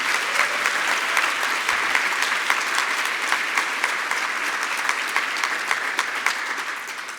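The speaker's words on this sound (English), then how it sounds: "give one more round of applause for Edwin" Sustained applause from a large audience at an aging-policy conference session, dense and even clapping that holds at a steady level for several seconds with no voices on top.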